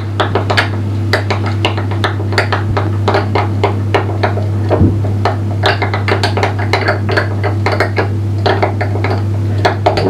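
Flour and water stirred together for a homemade sourdough starter, with a spoon knocking and scraping against the container in quick irregular taps over a steady low hum.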